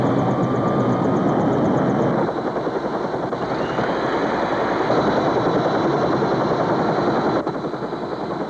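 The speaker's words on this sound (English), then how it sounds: "I don't like that they're bringing the helicopter in." A helicopter's rotor drones loud and steady throughout, a dense continuous thrum with a faint higher whine, no voices.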